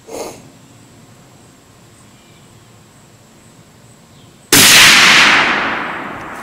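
A single loud, sharp report from a Christensen Arms .300 Win Mag rifle cracks out after several seconds of quiet outdoor hush, its blast decaying into a long rolling echo.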